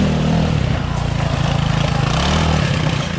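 A small go-kart engine drones steadily as the kart climbs a wooded hill, a loud, close, continuous buzz with slight wavering in pitch and no pause.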